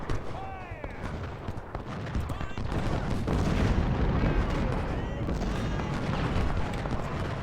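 Artillery fire in the Civil War video game Ultimate General: Civil War at the Fredericksburg battle, heard as repeated booming cannon shots and rattling volleys that overlap into a rolling, loud barrage that swells through the middle.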